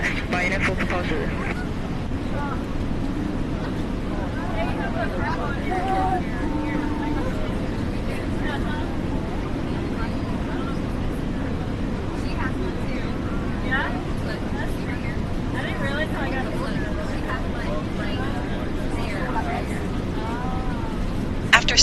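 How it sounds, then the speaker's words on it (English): Airliner engine start at Gatwick in Microsoft Flight Simulator 2024: a steady, low jet rumble holds throughout while cockpit and radio voices talk over it. "request pushback and engine start"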